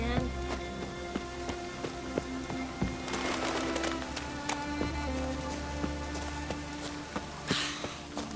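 Steady rain falls in The Witcher 3 on a Skellige pasture, a continuous hiss of drops on the ground with scattered sharper taps, heard alone at moderate level.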